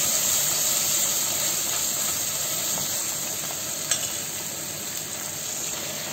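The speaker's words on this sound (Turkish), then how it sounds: "Çok çıkana kadar salçayı kavurun güzelce." Tomato paste fries in a pan with a steady, close sizzle and hiss. A faint clink of stirring cuts through briefly partway along.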